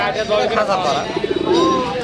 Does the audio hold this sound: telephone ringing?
no